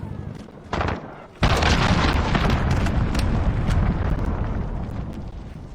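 Grenade blast in Call of Duty: Modern Warfare: a short burst, then a huge booming explosion whose rumbling roar fills the rest, loud and close.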